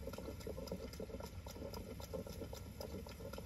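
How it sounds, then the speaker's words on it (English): Steady pattering video game rain with a dense, crackling texture, continuous and fairly faint, with no voices. "Man, I wish this rain would end."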